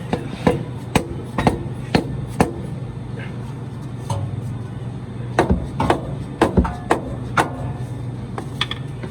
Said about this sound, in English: I'm just going to hit it with this hammer and break it